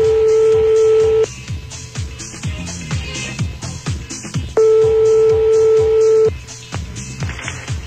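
A telephone number is dialed for a live radio call: steady tone segments and rapid keypad dialing tones, loud and close, with brief breaks between tone bursts.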